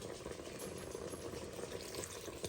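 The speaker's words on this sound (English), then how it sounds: "So we're going to pour this in there now." Chicken broth, about a cup, poured steadily from a container into a cooking pot for a hog stew, a continuous close liquid splash lasting a couple of seconds with no talking.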